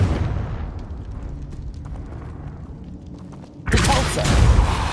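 A Confringo spell explosion in the video game Hogwarts Legacy bursts loudly near the end after a lower rumbling stretch, a sudden broad blast that stays heavy for the final second.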